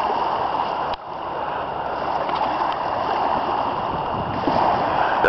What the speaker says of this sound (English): Got a little waves, we got tides going on.